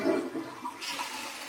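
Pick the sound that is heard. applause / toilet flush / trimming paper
toilet flush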